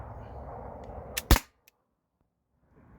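An Umarex air rifle fires one sharp shot at about the midpoint, a loud crack that follows low ambient rumble and drops to near silence afterward.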